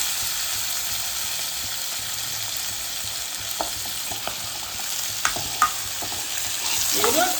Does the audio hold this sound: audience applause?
no